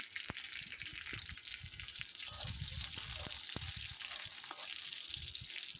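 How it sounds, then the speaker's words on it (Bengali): Split green chillies dropping into hot frying oil give a steady, moderately loud sizzle with scattered sharp pops and crackles, continuing without pause and growing slightly stronger partway through. "তো তার মধ্যে এবার দিয়ে দেবো দুটো কাঁচা লঙ্কা আমি ফাটিয়েই দিয়ে দিলাম।"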